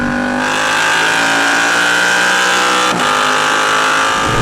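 A Yamaha R7 60th anniversary sport motorcycle held high in the revs, its engine a loud sustained buzzing whine with a quick-shifter stumble partway through, heard close up from the rider's position.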